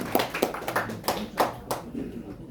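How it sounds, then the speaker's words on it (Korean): Scattered applause at a rally, a handful of sharp, separate claps spaced irregularly and fading out after about two seconds, fairly close. "큰 박수 부탁드립니다."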